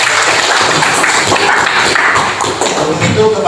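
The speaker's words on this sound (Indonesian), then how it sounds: "tepuk tangan buat kelompok" A classroom group claps after finishing its presentation, giving steady, fairly loud applause of many hands that goes on throughout.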